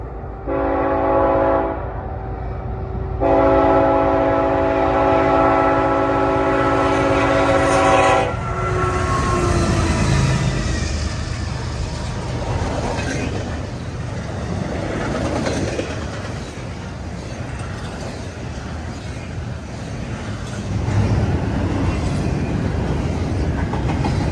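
A southbound intermodal freight train in Greenville, South Carolina blasts its horn in two long, loud chords with a short gap, then thunders past close by as a sustained rumble and rattle of wheels and cars fills the rest.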